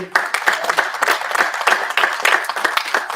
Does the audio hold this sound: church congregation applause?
yes